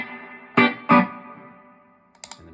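Electric guitar through a Solid Gold FX Surf Rider III spring reverb pedal: two loud strummed chords ring out with a long, washy reverb tail, followed by a few quick, softer picked notes near the end.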